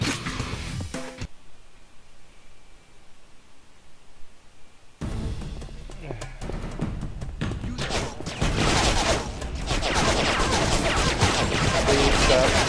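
Video game gunfire in a monastery level: dense, continuous bursts of shots and explosions, loud and close, with a quiet gap in the middle before the barrage resumes even heavier.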